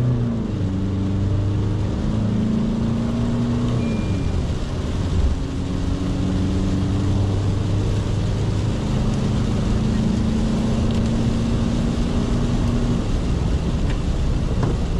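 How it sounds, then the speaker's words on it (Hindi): An Isuzu V-Cross automatic 4x4 with a 1.9 turbo diesel revs hard and accelerates with wheel spin, engine tone climbing through repeated rising sweeps, loud and continuous from inside the cabin with no talk. "ड्राइव में है, AC बंद है, रेव्स building up, wheel spin but traction control on है मेरा।"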